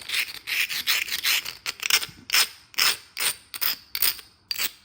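Brand-new carborundum stone rubbed along a stained glass edge, about a dozen quick rasping strokes in an even rhythm, close and clear.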